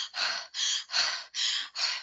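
Five slow, even mouth breaths in a steady rhythm, each an airy whoosh with short pauses between, close and fairly quiet with no talking.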